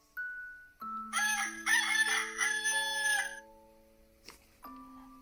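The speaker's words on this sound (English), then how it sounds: "Let's see what a cockerel sounds like." A cockerel crows loudly in a farm setting: one long, drawn-out cock-a-doodle-doo with warbling tones, framed by faint clear chiming notes before and after, with no talking.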